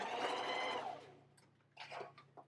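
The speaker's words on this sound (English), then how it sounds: "And then back stitch at the other corner." A sewing machine back stitches fabric for a bowl koozie, whirring steadily and loud for about a second, then falling quiet before a few short bursts of stitching.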